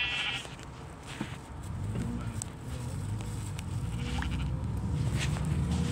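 Sheep bleat in Minecraft, a few short, quavering calls over a steady background of game sound and faint, low-level ambience, with no clear talking.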